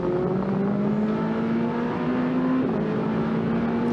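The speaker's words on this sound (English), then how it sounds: "Just the sound of these cars is magnificent." A Ferrari Challenge race car engine roars steadily at high revs on the Nürburgring circuit, its pitch climbing and dipping slightly as it runs close and loud without a break.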